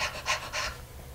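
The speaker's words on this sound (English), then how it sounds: "babies when they're younger breathe in a fashion called periodic breathing." A young infant breathes in quick, irregular puffs, three soft close breaths in a row, then a pause with no voices.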